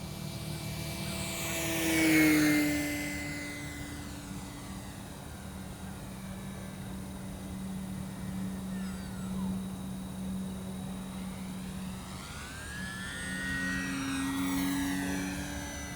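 An E-Flite P-51D Mustang 1.0m RC model plane on a 3-cell battery with its landing gear down makes full-speed passes. The motor's high whine swells and drops in pitch as it sweeps past, fades into a steady distant drone, then rises again on a second pass.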